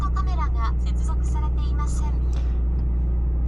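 A Porsche 718 Cayman GTS 4.0 driven in Japan fills the cabin with a steady low engine drone, a constant hum running the whole way beneath lively voices talking over it.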